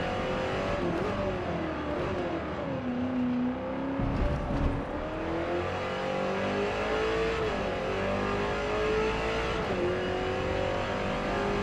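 Race car engine in a racing video game, with a Ford GT40 Mk. II or Mercedes-Benz CLK GTR, drones steadily throughout, its pitch rising and falling through gear changes and revs, loud and continuous with no talking.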